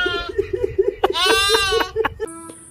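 Goat bleating in a series of short wavering calls followed by a long sustained bleat, close and loud, with no speech over it.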